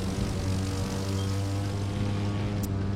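Steady, loud drone of a propeller airplane's engine in a flight simulator game during low-altitude flying, a continuous hum with strong low tones running unbroken throughout.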